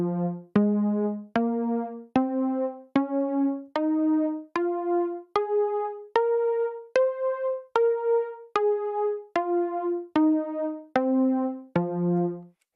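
Melodic sample chain loaded on one pad of an Elektron Digitakt 2, a clean synth-like tone stepping through about seventeen evenly spaced plucked notes that rise in pitch and then fall back down, each note short and separate, close and clear.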